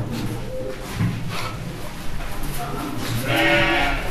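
Goats on a goat farm bleat while feeding on their daily fodder of leaves, several calls rising over a busy, noisy background, with a louder, higher bleat near the end.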